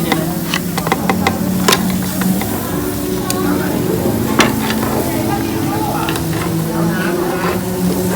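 Scallops grilling in their shells on a tabletop grill at a Thai barbecue buffet, a steady close sizzle and crackle with occasional sharp clicks, under a background hum of the restaurant and some talking.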